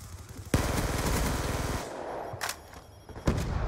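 Automatic pistol fire in Black Ops 2 multiplayer: a fast burst of rapid shots for about a second, followed by a few scattered distant shots and a sharp single report near the end, all loud and with no talking.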